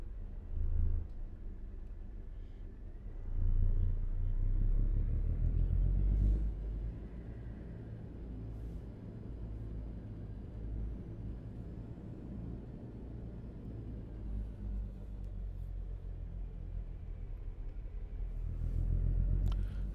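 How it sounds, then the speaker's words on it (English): A deep, steady engine rumble from a cargo delivery truck drones throughout, swelling slightly at moments, with no voices over it. "I love the sound of this truck."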